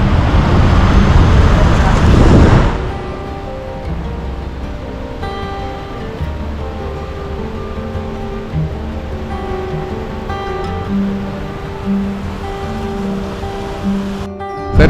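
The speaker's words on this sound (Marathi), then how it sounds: "हा आहे बो फॉल्स म्हणजे बो नदीवरचा वॉटरफॉल." Bow Falls, the waterfall on the Bow River in Banff, Alberta, gives a loud, steady rushing roar for about two and a half seconds before cutting abruptly to quieter, unrelated sound.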